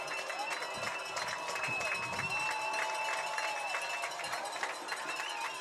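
A Saints home crowd at a varsity high school football game at St. Christopher's, third and goal from the one, roars steadily with cheering and clapping, a broad sustained noise under a faint tone throughout.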